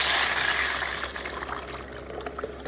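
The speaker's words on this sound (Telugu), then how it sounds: "ఇప్పుడు పచ్చి పులుసు పోసేద్దాం" Raw tamarind stew, pachi pulusu, pours into a pan with a strong liquid gush that gradually thins into scattered splashes and trickles, with no talk.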